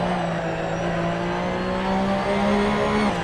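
A Porsche Cup race car's engine drones steadily in Assetto Corsa, its revs climbing and settling as the car is driven through a race, loud and continuous with no talk.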